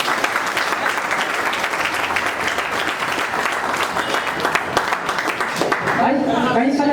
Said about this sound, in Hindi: तालियां बजाओ सभी।